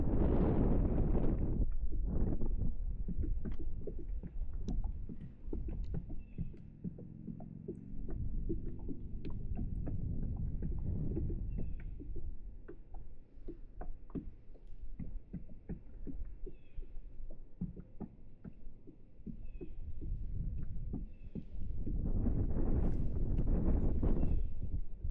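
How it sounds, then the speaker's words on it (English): Wind buffeting a microphone outdoors while fishing for crappie, a steady low rumbling roar that swells and eases in gusts throughout, loud and close, with occasional faint clicks. "It's pretty freaking breezy."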